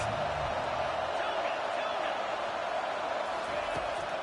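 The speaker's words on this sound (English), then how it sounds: "Listen to this crowd just shaking the girders of this place, trying to help their defense" A packed college football stadium crowd in a game against Texas roars for the defense, a loud, steady wall of noise that holds for the full span without easing.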